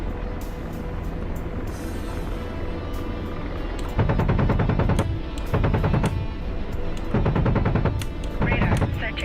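Gunfire in a war video game: heavy bursts of rapid automatic fire come in several long volleys over a constant droning engine hum, loud and close.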